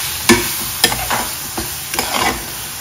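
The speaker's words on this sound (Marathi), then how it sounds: "तर मसाले चांगले परतून घ्यायचे आहेत आता" Kashmiri masala spices sautéing in a pan for squid masala, with a steady close sizzle broken by several sharp scrapes and knocks of a stirring spoon.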